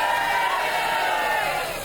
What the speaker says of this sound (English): Loud cheer there.